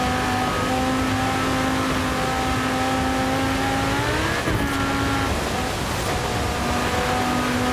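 A car sliding sideways across a frozen lake in Forza Horizon 4, its engine droning steadily with a rising rev and a brief scraping skid midway, loud and continuous throughout.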